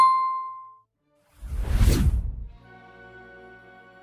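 A short tonal ding, then a loud swoosh, then a sustained ringing chime that fades out quietly, all without any voices.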